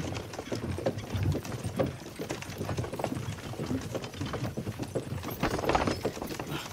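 Horses' hooves clop steadily as they pull a creaking cart in the medieval game Kingdom Come Deliverance 2, a continuous rhythmic clatter mixed with wooden rattling, fairly close with no talking.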